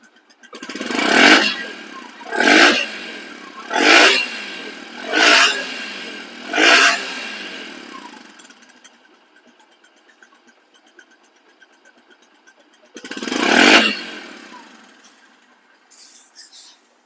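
A Bajaj Platina 110cc motorcycle engine, secondhand and in good condition, is revved in five evenly spaced loud bursts that fall back to a quiet idle, then gives one more rev near the end.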